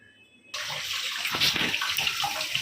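Water gushing steadily from a tap as fish is washed in a kitchen, starting abruptly after a brief quiet moment and running loud and continuous, with splashing variations.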